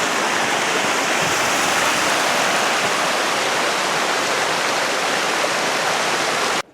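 A mountain stream on Tiger Mountain rushes downstream in a loud, steady broadband roar of flowing water, constant and close throughout before cutting off abruptly at the end, with no voices.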